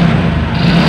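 Honda Supra 125 motorcycle engine with a rough running sound from worn parts, a loud close steady hum with low droning tone over one second.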